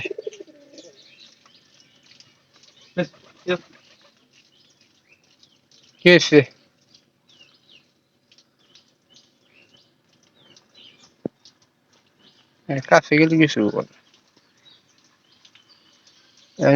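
Pigeons coo in a loft in short, close bursts, separated by long quiet stretches. A few soft chirps come between them, and a person says a few words.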